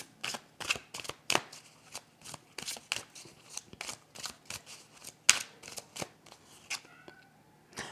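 Tarot and Lenormand cards are handled and shuffled up close, producing a steady run of quick papery riffles and slaps that repeat about twice a second, with one sharper snap midway and no talking.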